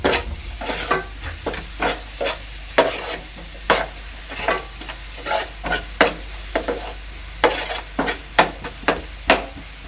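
Onion frying in a pan until reddish, stirred with a spoon that scrapes and knocks the pan in a quick irregular rhythm over a soft background sizzle.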